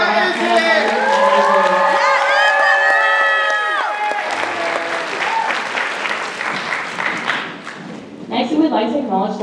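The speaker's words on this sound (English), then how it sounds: "Another round of applause for our head advisors" A crowd applauds the head advisors at a student cultural organization's Chinafest event, with sustained dense clapping and cheering filling the room, while voices and whoops rise over it and a loud burst of clapping swells near the end.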